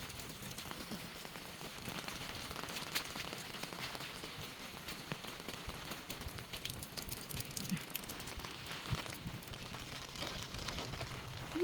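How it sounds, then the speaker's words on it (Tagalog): Heavy rain pours steadily on surfaces outdoors in windy weather, a dense constant hiss of drops with no breaks and no talk, moderately loud and close. "Malakas ng ulan."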